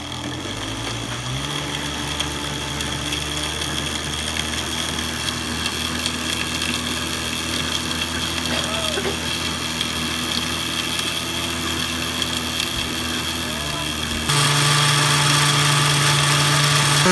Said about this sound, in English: you blend it in the blender